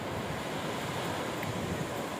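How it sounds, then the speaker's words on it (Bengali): Steady roar of sea surf washing in continuously at Cox's Bazar beach, broadband and wind-blown, with no voices and no distinct individual breaks. "সাগরের গর্জন একটার পর একটা সাগরের ঢেউ এসে উঠছে পড়ছে"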